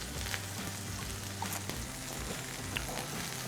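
Red wine sizzling steadily in a hot roasting pan as it cooks down for a roast beef striploin mushroom sauce, a continuous close crackle with low kitchen rumble beneath.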